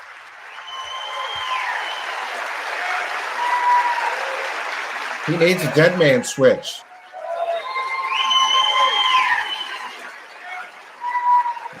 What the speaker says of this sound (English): Listen to all those stupid people clapping